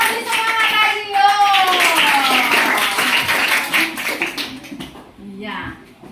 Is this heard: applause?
yes